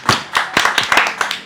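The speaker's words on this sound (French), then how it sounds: "on l'applaudit." Clapping from a small group at a blind food tasting, a quick run of about seven close, sharp claps in an uneven rhythm.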